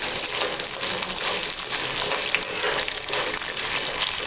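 Dried red chillies frying in a pan over a medium flame for beetroot chutney, a loud, bright, crackling sizzle that runs continuously and close up with no voices.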